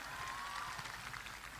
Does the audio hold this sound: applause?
yes